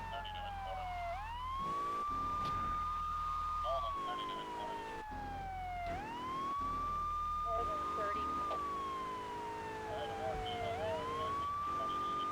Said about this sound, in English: Playing around with the sirens for the first time.